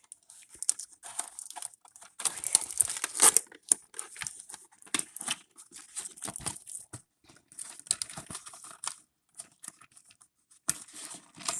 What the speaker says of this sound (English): And we have to snip everything that's plastic.